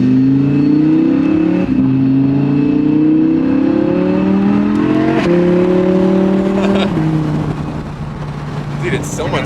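A V10 supercar engine pulls through the gears while driving, its tone climbing steadily and then dropping back at each shift, loud and close from inside the cabin, with people talking over it.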